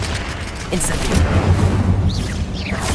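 Incendio fire spell cast in the video game Hogwarts Legacy, a dense roaring burst of flame with low rumble over busy combat noise, brief whooshing sweeps near the end, loud and close.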